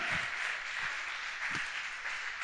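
A church congregation applauds together, making a soft, continuous wash of clapping heard from a distance at low volume.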